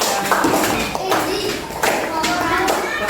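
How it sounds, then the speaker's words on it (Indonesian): Classroom applause for a student group: several bursts of children's clapping, close and lively, with young voices chattering between and under the claps. "Kita beri tepuk tangan untuk kelompoknya Arsya."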